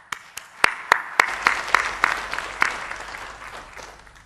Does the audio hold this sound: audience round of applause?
yes